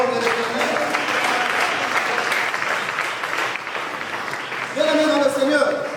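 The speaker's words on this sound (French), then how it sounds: "Nous acclamons la parole de l'Éternel." A church congregation at a prayer service claps together in sustained, dense applause, loud and close throughout, with a voice rising over the clapping near the end.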